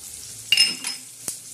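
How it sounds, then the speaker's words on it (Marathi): Garlic dropped into hot oil in a pan for tempering a spiced sev curry: a sudden sharp sizzle burst with a clink of utensils, then a second hiss and a brief metallic tap, close and brief. "आता आपण लसूण बी टाकतोय"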